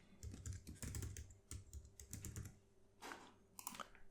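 Fingers type a password on a computer keyboard in quick, uneven bursts of clicking keystrokes, close and fairly quiet, with a short pause before a last flurry of taps.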